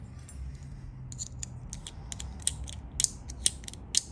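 A rifle bolt being worked after a three-year lubricant test with salt exposure gives a close series of crisp metallic clicks, scrapes and ratcheting snaps, the sharpest strikes toward the end, with no talking.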